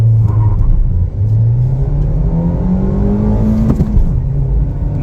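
A Nissan Versa S with a five-speed manual accelerating hard, engine note climbing steadily toward about 7,000 rpm with a quick gear change early on, loud and close from inside the cabin.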